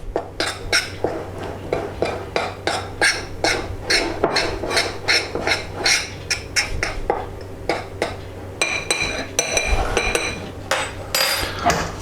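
Flour being mixed into pastry mixture in a bowl, heard as a steady run of sharp clinks and taps of a utensil against the bowl, close and fairly loud, in a quick regular rhythm with no talking.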